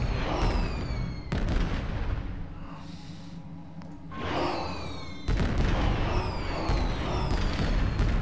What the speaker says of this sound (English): Fireworks all around